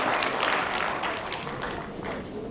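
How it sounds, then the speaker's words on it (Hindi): Audience members at a Hindi comedy poetry event clap together at moderate volume, a crowd applause that holds steady for a couple of seconds. "अब एक बार विधिवत ताली बजाकर मुझे बता दें कि आप सुनना चाहते हैं।"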